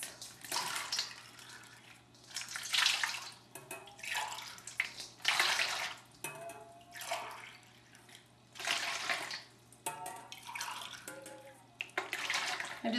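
Warm tap water runs into a container for homemade bread dough, a steady splashing rush that surges and fades in bursts, fairly close and alone with no talking.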